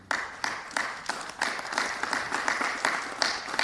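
Audience applause at a Richmond mayoral press conference: a dense, steady burst of many hands clapping, fairly close and loud, with rhythmic surges throughout the short stretch.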